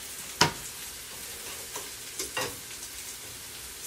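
Spinach, sausage and mushrooms sautéing in a pan, a quiet steady sizzle broken by a few sharp stirring clacks, close and fairly faint.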